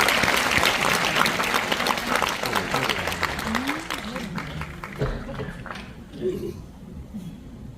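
Audience applause in a concert hall at a peace concert, welcoming a sand art performance and poetry recital; clapping is loud at first and thins out over several seconds as faint speech-like sounds come through.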